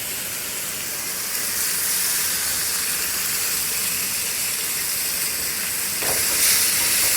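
Wagyu beef filets sear in a hot pan in Cajun-style cooking, giving off a steady, loud, broad hiss and sizzle that barely changes for the whole stretch.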